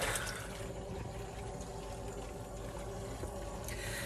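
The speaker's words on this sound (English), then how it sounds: "Okay, we are at the sink. I always use Eucalan. So I'm just putting some water in." Tap water runs steadily into a sink being filled to wash a knitted hat, a continuous close splashing rush with no speech.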